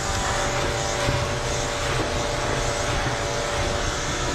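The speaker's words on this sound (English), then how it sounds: "So clipper vac really does save a lot of time. It just sucks up that hair as I clip" A clipper vacuum attachment sucks up dog hair during clipping, giving a constant loud airy roar with a motor hum underneath, unbroken throughout.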